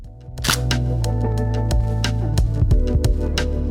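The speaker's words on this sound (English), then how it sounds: "Turns out the shutter sound is deeply satisfying" Hasselblad 500CM medium-format film camera, a series of sharp mechanical shutter clicks and clacks over steady background music, close and crisp, repeated irregularly about every half second.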